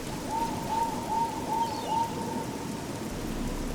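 Birds in the video game Oblivion, outdoors near Anvil, give five evenly spaced hooting calls over a steady rain-like hiss, with the last call fading out.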